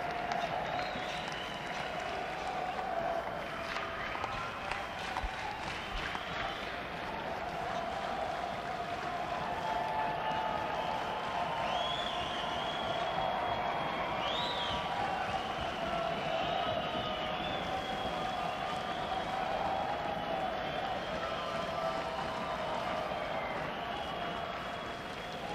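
A concert crowd at a show in San Francisco on New Year's Eve 1971 keeps applauding and calling for an encore, a dense, continuous wash of clapping and cheering that holds steady throughout.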